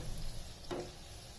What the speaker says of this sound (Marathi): गोल्डन होईपर्यंत हे तळून घ्यायचे